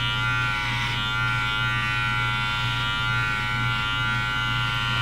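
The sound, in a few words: Wahl Senior cordless hair clipper cutting hair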